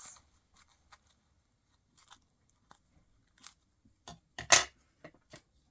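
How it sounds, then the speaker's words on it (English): Scissors snip through excess cardstock paper on a handmade card, a handful of short, sharp cuts scattered across a quiet room, louder near the end. "pull, and then cut off the excess"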